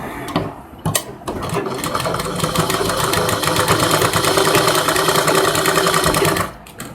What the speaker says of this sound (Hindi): इसके ऊपर से भी लैस पे हम सिलाई चला लेते हैं